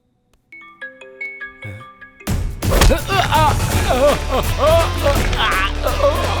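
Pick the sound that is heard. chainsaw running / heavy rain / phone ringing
phone ringing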